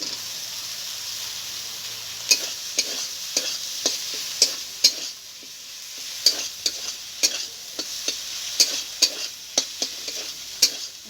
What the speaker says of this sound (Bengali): ভেজে রাখা আলুটা দিয়ে আমি একটু নেড়ে ফেলে নেবো